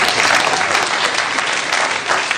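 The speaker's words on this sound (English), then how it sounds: "a big round of applause once again for our panel, our candidates" Loud, sustained applause from an audience at a meet-the-candidates event for the Papakura Local Board and Manurewa-Papakura Ward, dense steady clapping throughout with no talking.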